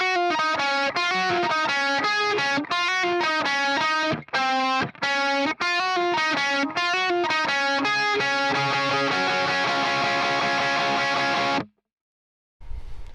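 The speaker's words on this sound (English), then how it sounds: "the second guitar is going to like a more aggressive picked lead part" Electric guitar tears through an aggressive picked lead line with distortion, rapid choppy notes and brief gaps, then a sustained ringing passage that stops suddenly.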